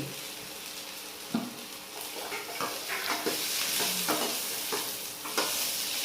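Okra fries in oil in a pan over low heat, a bright, close sizzle broken by repeated scraping stirs that come in short bursts every second or so.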